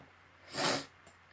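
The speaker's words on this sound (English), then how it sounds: "Please excuse my like sniffles. By the way, I've got hay fever." A single sharp nasal sniff from hay fever, close and breathy, rising and fading within half a second amid quiet.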